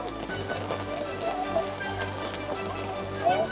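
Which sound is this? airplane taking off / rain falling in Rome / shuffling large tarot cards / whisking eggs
rain falling in Rome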